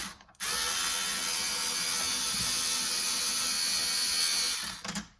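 A Skil electric screwdriver backs screws out of a loose doorknob with one continuous, close whirring drive lasting about four and a half seconds, starting and stopping abruptly, with no one speaking.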